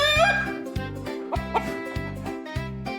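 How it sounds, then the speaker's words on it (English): A chicken clucks in a steady repeating rhythm, five or six even clucks over a low pulsing backing track, clear and close with no talking. "It's a chicken."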